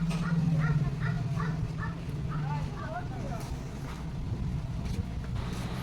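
A dog yips and whimpers in a quick series of short, high calls near the start, fading into a quieter ambience with a low vehicle rumble while people talk nearby.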